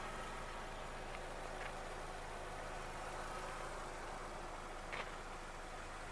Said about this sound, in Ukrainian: Мотор працює рівно, тихо.